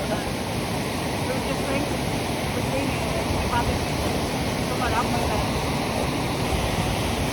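Janet Foss waterfall in Yorkshire pours in a steady, broad rushing roar that stays constant throughout, with faint voices in the background.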